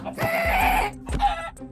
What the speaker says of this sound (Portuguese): A galinha tá me atacando.